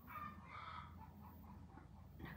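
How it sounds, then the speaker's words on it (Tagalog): Hens cluck and cackle after laying eggs, a faint squawking call from a farmyard bird with rhythmic clucks over a low background rumble. "nagputak-putak na naman yung aking manok"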